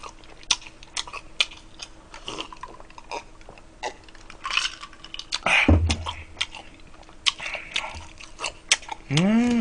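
Crunchy onion being chewed close up during a late-night Korean mukbang of jjamppong and jjajang noodles, sweet-and-sour pork and fried dumplings, with a run of wet crunching bites and a louder burst near the middle.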